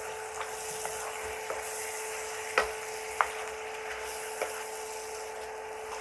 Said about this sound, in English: add in 3 tomatoes, quartered, mixing them well